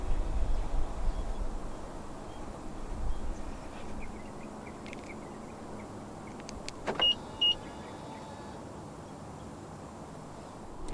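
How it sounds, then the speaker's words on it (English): A 2023 BMW iX xDrive50 sits quietly as its power windows close together, a faint electric motor whir under steady background hum, ending in a couple of soft clicks. "And to roll all of them back up together, just press and hold on the lock button."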